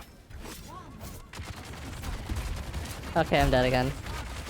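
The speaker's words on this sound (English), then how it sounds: "Those guys shoot so many bullets!" Enemies in the video game Dune firing a barrage of bullets: steady rattling gunfire under game noise, a louder burst near the end, while a player talks over it.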